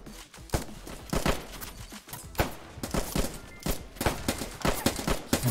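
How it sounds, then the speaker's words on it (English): Machine gun fire in the Roblox trench warfare game Trenches, a string of sharp separate shots in uneven bursts, some close and loud, others lighter, repeating throughout. "I think that was the guy with the machine gun."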